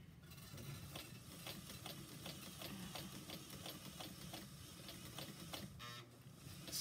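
Sewing machine stitching along the edge of fabric for a kitchen towel dress, a quiet, steady mechanical whir with regular rhythmic ticks, faint and continuous with no speech.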